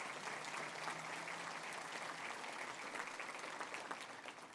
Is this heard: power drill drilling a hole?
no